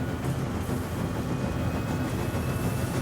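Trains running in the Satisfactory factory game, a steady loud rolling rumble with rhythmic wheel clatter, continuous with no talk.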